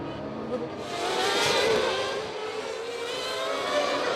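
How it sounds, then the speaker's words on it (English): A Formula One car's engine at the San Marino Grand Prix restart behind a safety car: a continuous high-pitched engine whine swelling and easing, loud and fairly close. "And you hear the engine revs rise as Senna, followed by Schumacher."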